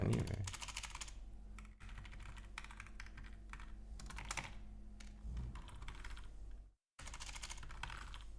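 Steady, fast typing on a computer keyboard while coding, dense clicks and clacks close to the microphone, continuing almost throughout with one brief pause near the end.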